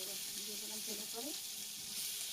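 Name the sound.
prawns frying in oil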